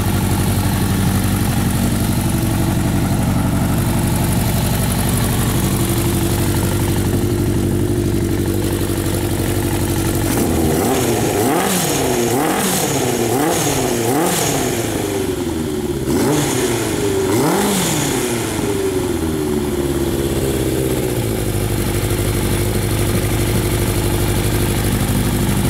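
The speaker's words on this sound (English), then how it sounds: "Engine run like a top actually, runs really good." A 1981 Honda CB900 motorcycle engine idles steadily, then blips through a series of rhythmic revs that rise and fall before settling back to a loud, close idle.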